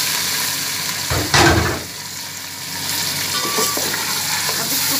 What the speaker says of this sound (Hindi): लहसुन अदरक के थोड़ा सा फ्राई करके मैं इसमें चिकन डाल दूँगी